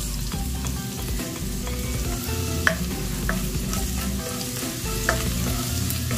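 Onion and garlic frying in a pan, a dense steady sizzle with occasional stirring clicks and scrapes, close and continuous, no voices.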